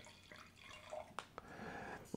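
Wine poured from a screw-cap bottle into a glass, a quiet trickle of liquid with a few soft drips and clinks, faint and close, without talking.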